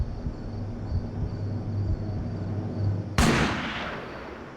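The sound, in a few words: gunshot in a crime reenactment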